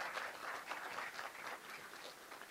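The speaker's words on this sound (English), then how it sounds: "How about a round of applause for Angie?" Fairly soft but steady applause from an audience at a State of the City address in Independence, a continuous patter of many hands that fades slightly toward the end.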